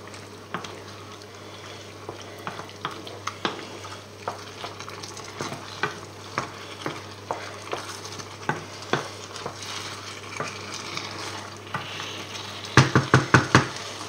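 Spoon stirring squid in Basque-style tomato sauce frying in a pan, a soft steady sizzle under regular close scraping knocks, with a quick cluster of clatters at the end.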